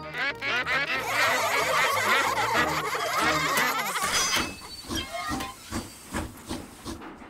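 A cartoon steam train in a Peppa Pig episode gives a loud, sustained hiss for about four seconds, followed by quieter, choppy sounds.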